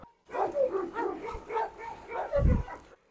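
Rottweiler dogs barking in a series of short, close barks with whimpering yips mixed in, the loudest burst coming near the end.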